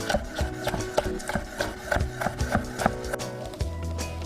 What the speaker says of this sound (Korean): 소로 채울 야채들은 같은 길이로 가늘게 채 썰어줍니다